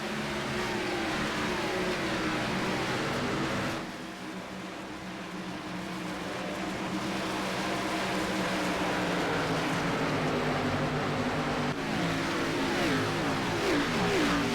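Stock race cars racing at Rockingham in the AREA Lodgebox Series, with loud, continuous engine roar and revving from several cars, dipping briefly before swelling back as the pack goes by.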